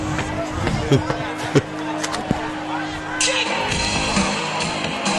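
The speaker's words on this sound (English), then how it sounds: "A little excitement in the crowd after this song started." Crowd in the stands at a high school football game, Wausau West against Kimberly, a steady murmur of chatter and cheering with a few sharp shouts, louder excited cheering rising near the end.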